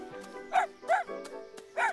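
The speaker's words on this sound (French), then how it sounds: "Au prix où ils vendent le casse-dalle, je me suis dit qu'il pouvait bien nous filer un chien." A dog gives three short, fairly close barks or yips, evenly spaced across two seconds, over a steady low hum with no talking.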